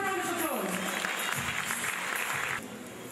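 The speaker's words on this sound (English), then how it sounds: "give them a round of applause." Audience applause at a fashion show between collection rounds, a broad wash of clapping from the crowd that keeps going under music and a compere's amplified voice, then drops a little in level near the end.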